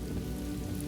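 Rain pattering steadily on leaves overhead in a monsoon downpour, a dense, even wash of drops that holds constant and close throughout, with no voices.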